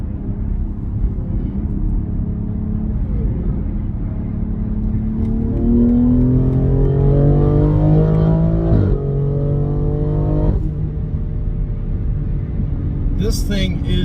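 2021 BMW X3 M Competition with the S58 engine accelerating hard from a launch, a loud rising engine roar climbing through gears, with pitch sweeps and a shift break before it settles, heard from inside the car.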